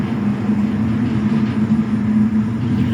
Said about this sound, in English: Oh, we got some loud traffic